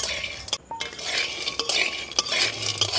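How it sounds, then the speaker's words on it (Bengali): Peanuts and chickpeas are stirred as they roast in a pan, a steady rattling scrape of the spoon and dry nuts running throughout, close and fairly loud with faint sizzling underneath. "আমি এর মধ্যে কিন্তু ছোলাটাও দিয়ে ভালো করে গরম করে নেব।"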